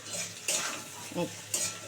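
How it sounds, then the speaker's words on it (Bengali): Young ridge gourd and eggplant being stirred and fried in a pan: three quick spatula scrapes against metal over a soft, close frying sizzle. "দিয়ে একটু নাড়াচাড়া করে তারপরে হচ্ছে আমি একটু ভাজা ভাজা করে নিই"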